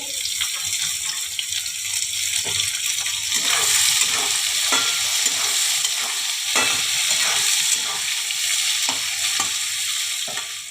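Chopped onions and green and red chillies sizzle steadily in hot oil in a pan, a continuous bright hiss with intermittent scraping stirs, close and fairly loud, no talking.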